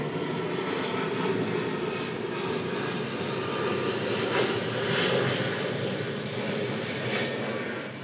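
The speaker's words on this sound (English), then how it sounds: "As we talk, a plane's flying overhead." A fixed-wing airplane flying overhead gives a loud, steady engine drone that swells slightly and carries on throughout, with no talking.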